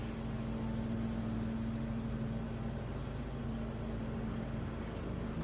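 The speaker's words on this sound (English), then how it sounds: "I think they're doing some yard work out there." Steady outdoor yard work machinery drones continuously at a distance, a constant low hum with a broad noisy wash and no break or talking over it.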